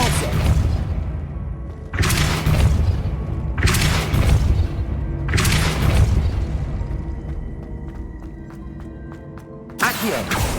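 Depulso spells in Hogwarts Legacy strike repeatedly, each a loud booming impact about every two seconds. After four bursts comes a quieter stretch of small clicks and crackles, then a final blast.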